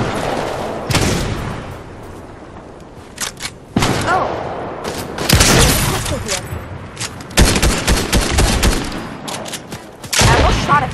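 Fortnite gunfire crackles in irregular bursts, with rapid volleys and single loud shots up close between quieter stretches.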